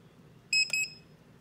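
An electrical receptacle tester gives two short, shrill electronic beeps in quick succession, close and clear against a quiet background.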